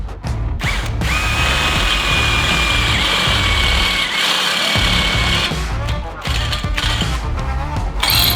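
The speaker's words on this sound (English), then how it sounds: "Now just use a step drill on each side to get to probably 14 mil, or even 12" Power drill driving a step bit through car plate steel during a Holden Torana build, a loud continuous whining grind with rising tones, pausing briefly and restarting in short bursts.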